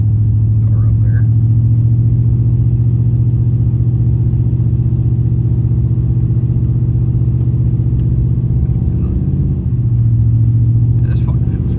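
A GMC 2500HD pickup on ordinary stock tires labors up a snowy hill in a snowstorm, its engine droning in a steady loud low rumble heard from inside the cab, with a brief dip before the strain resumes.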